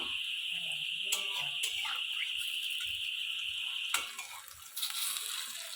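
Cauliflower pakoras frying in hot oil, a faint steady sizzle with a few sharp clicks of a utensil turning them, no talking.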